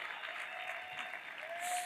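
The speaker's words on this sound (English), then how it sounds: "So with that, give a huge round of applause to Lauren." Sustained audience applause fills a live talk before a crowd, a steady dense wash of clapping at moderate loudness with no break and no voices on top.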